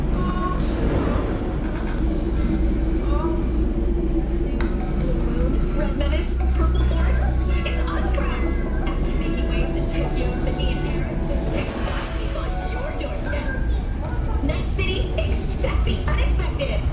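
NCART metro train riding through Night City in Cyberpunk 2077, a steady low rumble and rolling rail drone that carries on without a break, close and fairly loud, with announcements or voices faintly mixed in.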